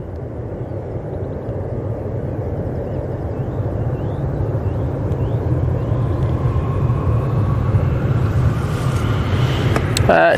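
TUI Boeing Dreamliner airliner arriving at Manchester Airport, a steady loud jet roar and rumble heard from outside that builds gradually over about ten seconds.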